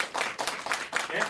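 A school audience claps briefly for the teachers, a short burst of close, moderately loud clapping with uneven beats.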